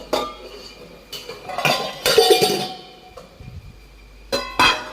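Stainless steel pots and dishes clink and clatter in short bursts, close by, with pauses between the handling sounds and no talking.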